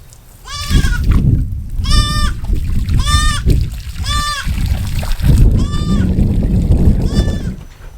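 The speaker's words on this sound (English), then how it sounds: "the cow does a little panting thing" A Highland cow panting in extreme heat gives a series of about six harmonic, bleating-like calls at a steady rhythm, close by, over a continuous low rumble.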